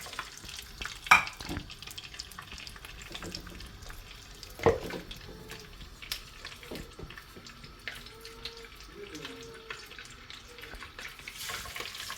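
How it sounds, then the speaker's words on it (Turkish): Sea bass frying in hot oil in a pan with a steady crackling sizzle, punctuated by a couple of sharp clinks of a utensil against the pan. "Yağ kızdıktan sonra bu şekilde kızartacağız."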